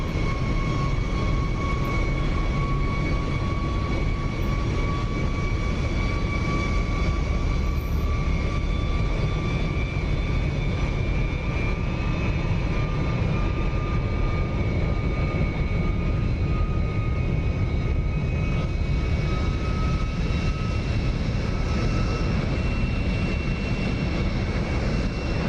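SR-71 jet engines in cruise flight in the DCS flight simulator game, a loud, constant roaring drone with steady tonal whine, unbroken for the full length and with no talk.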